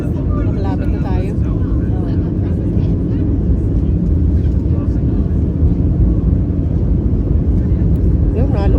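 Small passenger airplane descending toward Barcelona on a London flight: a loud, steady cabin engine roar dominates throughout, with a person talking over it early on.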